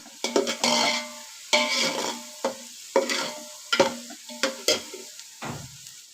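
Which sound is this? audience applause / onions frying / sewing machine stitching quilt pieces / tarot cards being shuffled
onions frying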